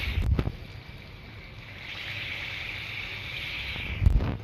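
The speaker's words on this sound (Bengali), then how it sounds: "এবার তেল গরম হয়ে গেছে। এবার এক এক করে বড়াগুলোকে দিয়ে দেবো।" Ripe mango fritters in a coconut batter drop into hot oil, giving a steady bubbling hiss that swells partway through, with a couple of soft thumps at the start and end.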